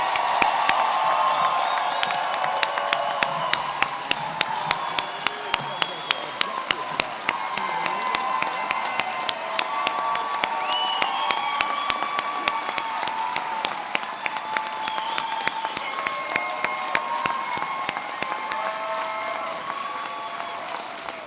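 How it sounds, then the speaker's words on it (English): Audience at a 2019 convocation ceremony applauds continuously for about twenty seconds, a dense, steady wash of many hands clapping at moderate distance, with a few faint cheers. "How about one more big round of applause for all of them?"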